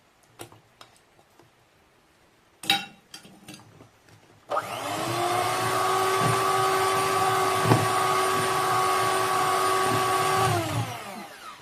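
Light ticks and a couple of knocks come first, then an electric beater starts up in carrot cake batter with dates and cashews. Its close, steady motor drone lasts about seven seconds before winding down. No voices.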